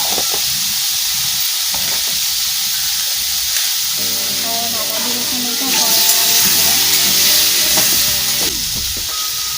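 Potatoes fry in hot oil with turmeric, making a loud, steady hiss and sizzle throughout while a voice talks over the cooking.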